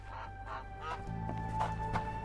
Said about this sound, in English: A goose.